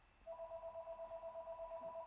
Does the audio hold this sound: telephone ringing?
yes